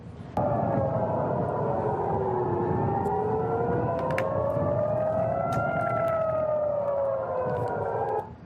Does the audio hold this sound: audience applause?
no